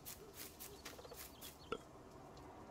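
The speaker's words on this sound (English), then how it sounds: "Oh, this is my chicken farm here." Chickens on a chicken farm in Farming Simulator 19 give faint, soft clucks in a loose rhythmic series, with one sharper cluck near the end over quiet background.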